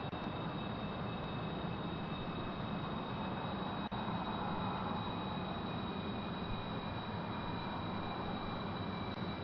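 A jet engine in the video game Kerbal Space Program, a steady dense roar holding constant with a faint high whine above it, loud and unbroken throughout.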